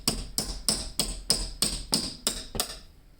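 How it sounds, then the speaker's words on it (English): Old window trim is pried off with nine sharp, evenly paced knocks about three per second, each ringing briefly before the next, close and clear, with no talking. "so first we're just going to pull off our old trim here"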